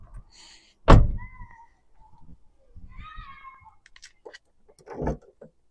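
A sharp mechanical clunk of a Honda Civic MB2 boot latch releasing via its cable, followed by softer creaks and a second thud as the lid moves, with faint rustling between.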